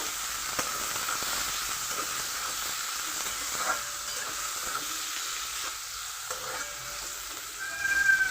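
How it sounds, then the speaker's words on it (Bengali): Chopped onions fry in a pan with a continuous, even hissing sizzle, close and moderately loud, with a few faint stirring ticks and a brief swell at the end. No talking. "এবার এই পেঁয়াজটাকে ভালোভাবে ভেজে নেব"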